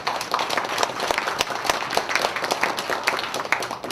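A crowd at a regional development forum on railway relocation gives dense, sustained applause for a lawmaker, many overlapping claps filling the room at an even level.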